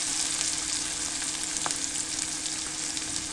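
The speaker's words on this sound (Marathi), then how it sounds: "कांदा असतो तो आपण इथे बारीक कापून घेतलेला आहे, तो आपण आता इथे टाकणार आहोत। हे थोडंसं आपल्याला परतून झालं" Finely chopped spring onion bulbs sautéing in a pan for a Marathi moong dal dish, a steady soft sizzle with light crackles, close and moderately quiet, with no voices.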